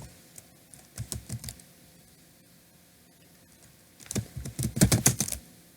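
Someone types PHP code on a computer keyboard in two short bursts of rapid clicky keystrokes, separated by a quiet pause, close and clear with no talking.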